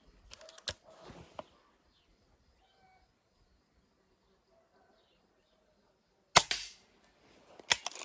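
A sharp pop of a Hatsan Model 25 break-barrel air pistol rings out, followed by quiet, then more crisp snapping shots and clicks near the end.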